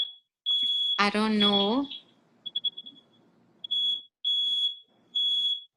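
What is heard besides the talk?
smoke alarm beeping in a house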